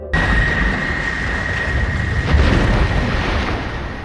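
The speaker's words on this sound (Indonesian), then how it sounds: "Terjadi sebuah ledakan dahsyat tepat di hadapan mereka, sehingga membuat kapal terbalik." Huge explosion in a film scene capsizing a boat at sea, a dense, loud roaring boom with churning water and wind-like rush that swells briefly midway, no voices.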